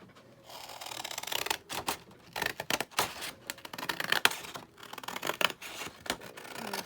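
Scissors snip through paper in a series of close, crisp cuts, irregular bursts of blade scraping and rustling separated by short pauses, with no talking.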